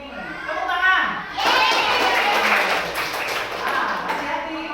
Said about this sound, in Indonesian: Ayo Naura maju sini. Tepuk tangan.